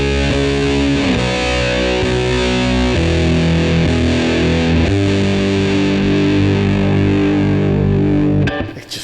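Electric guitar driven through a Gokko overdrive pedal, heavily broken up and compressed, with sustained distorted chords ringing loud and dense for several seconds before cutting off at the end.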